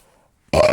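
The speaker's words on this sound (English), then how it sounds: "excuse me, my coffee burp" A single short, loud burp after drinking coffee, close to the mic, bursting abruptly from near silence and cutting off after about a quarter second.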